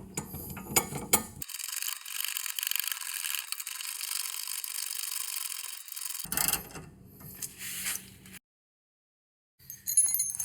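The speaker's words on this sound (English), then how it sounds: "I used this awesome puller to pull this lollipop off" A puller grinds and ratchets as it forces the lollipop bushing bracket off a BMW Z3 lower control arm, in close mechanical scraping bursts with a long steady stretch and a brief pause near the end.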